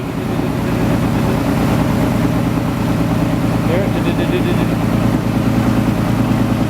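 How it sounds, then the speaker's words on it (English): A VJ Valiant ute engine runs with a misfire, a loud, close, continuous rough idle with an uneven pulsing beat and no voices over it. "Got a bit of a misfire there."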